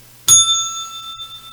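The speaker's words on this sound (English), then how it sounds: "bells for you" A single sharp bell ding rings out as a trading alert, its bright metallic tones sustaining and slowly fading over a low background hum.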